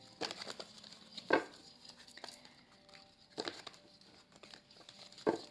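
Tarot cards are shuffled up close: quiet papery rustling punctuated by a few sharp flicks and snaps at irregular intervals, with no talking.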